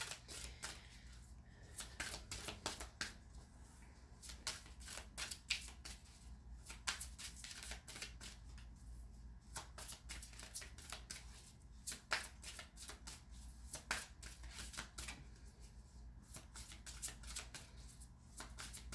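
A tarot deck is shuffled continuously at close range, giving quiet, rapid riffles and flicks of cards with no talking over them.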